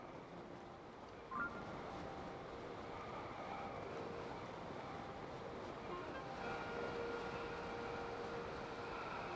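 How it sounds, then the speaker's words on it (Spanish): Steady rushing of river water in the Zelda: Tears of the Kingdom game world, a continuous broadband wash that holds an even level throughout, with a brief soft bump near the start. "Sí, esto es agua."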